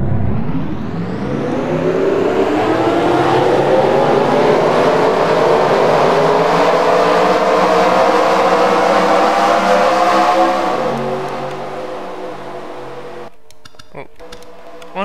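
Race cars in a stock-car racing video game roll off and build speed, a loud layered engine whine climbing steadily for about ten seconds before fading away.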